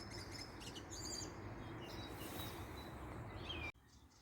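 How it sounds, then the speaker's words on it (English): Faint birdsong chirps and trills over a soft outdoor rush of background noise around Stirling and Callander, Scotland, then the sound cuts off abruptly near the end. "You can hear the birds singing away."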